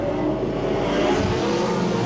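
Race cars roar around a dry, dusty dirt track at the 1984 Australian Grand National, a dense, continuous engine drone with shifting pitch as several cars pass close by.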